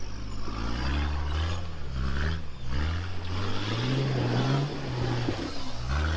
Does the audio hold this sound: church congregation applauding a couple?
no